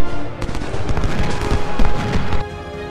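Massed musket volleys crackle in a Civil War battle in the strategy game Ultimate General: Civil War, with a dense run of sharp overlapping shots and booms. The firing is loud and continuous before tailing off near the end.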